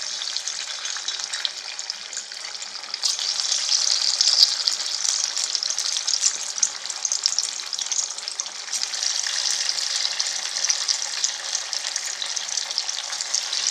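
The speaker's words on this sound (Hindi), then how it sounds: "और इसमें हम डालेंगे पकौड़ियों को।" Moong dal pakoras fry in hot oil, giving a steady, close, bright sizzle and crackle that rises slightly midway and continues alone without talk.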